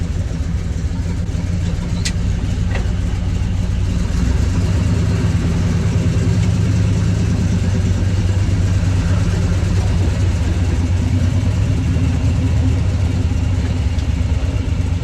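A 1967 Chevrolet C30 truck engine running continuously close by, a loud, steady low rumble throughout with little change in level and no talking over it.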